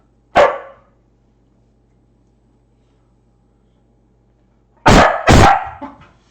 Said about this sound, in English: my dog is very antsy at the moment.